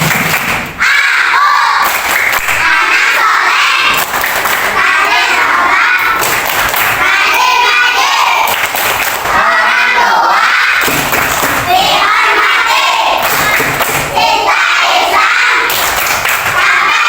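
A fourth-grade class of children chants loudly in unison and claps a rhythmic classroom clap pattern, with hand claps and shouted syllables repeating in regular bursts from close by.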